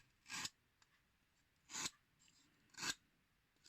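A cutter shaves plastic off a pencil sharpener blade in three short, crisp scraping strokes spaced about a second and a half apart, close and quiet with silence between.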